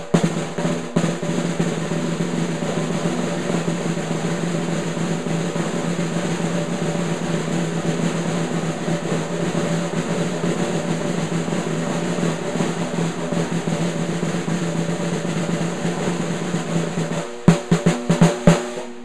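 A snare drum roll played with drumsticks buzzes as a dense, continuous rattle at an even level, ending with a few separate sharp strokes near the close.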